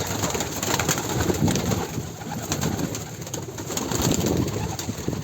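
Pigeons in a coop cooing in a low, soft murmur amid busy background noise and rustling, steady over several seconds with no talking.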